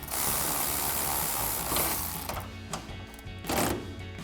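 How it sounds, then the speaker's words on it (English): A 15mm socket ratchet tightens a bolt into a U-clip on the exhaust mount of a Sierra 1500 during a Borla Touring dual exhaust install, giving a steady close metallic clicking with a few brief louder bursts. "take a 15mm socket to tighten it down"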